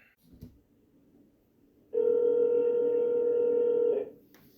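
A phone call goes out: after a short quiet stretch with a faint thump, a single loud, steady electronic tone sounds for about two seconds, then cuts off abruptly before the call reaches voicemail.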